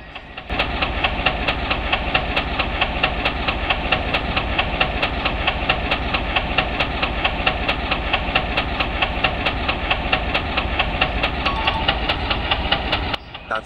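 A loud train engine chugs with a steady, rapid rhythmic pulse and hissing as the throttle is pushed up, running continuously before cutting off abruptly at the end.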